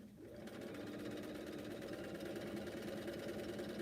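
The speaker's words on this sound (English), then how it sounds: "I'm just going to keep sewing just to get this off of here" Sewing machine stitching binding onto a quilt: after a short quiet start, a continuous rapid mechanical whir with a steady needle patter, close and even for several seconds.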